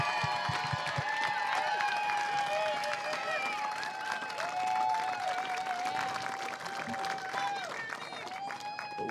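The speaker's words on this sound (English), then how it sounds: "Big round of applause." Spectators applaud a fourth-place men's finisher at the Western States 2021 endurance run, with a steady wash of clapping and crowd noise under ringing tonal sounds and background chatter throughout.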